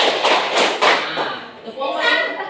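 Rhythmic hand clapping from a classroom clapping game, a group clapping in steady counted beats up close while a voice speaks over the claps throughout.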